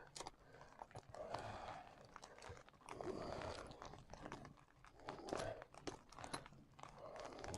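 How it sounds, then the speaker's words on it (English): A blade cuts through a solid zip outdoors in a garden, giving a series of crunchy, crinkling snips and tearing bursts in an uneven rhythm, close but faint, with no speech. "Now what I've got to do is just cut the zip."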